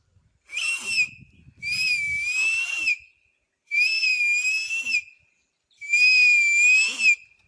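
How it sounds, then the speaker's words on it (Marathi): A small whistle is blown four times in sustained shrill blasts, each about a second long, separated by short pauses. "मारून बघू शिट्टी एकदा"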